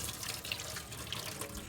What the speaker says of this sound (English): after I rinse these off